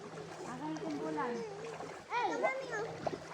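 Water splashes and sloshes close by in a river while children talk excitedly over it, the splashing bursts coming in short irregular spurts.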